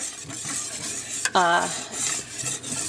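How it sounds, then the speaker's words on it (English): Sauce for a parmesan chicken mushroom bake being stirred in a pot, with soft scraping and clinking of a utensil, one brief louder clatter midway, steady and close with no talk. "now you got both cups in, and you're just going to stir"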